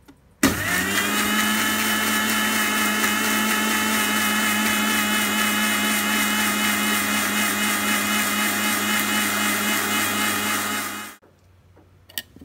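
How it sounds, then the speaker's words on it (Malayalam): A blender grinds garlic cloves with powdered salt into a thick paste, its motor running loud and steady for about ten seconds before cutting off abruptly, with no talking. "കുറച്ച് ഉപ്പ് പൊടിയിട്ട് ഇത് നന്നായി അടിച്ചെടുക്കാം"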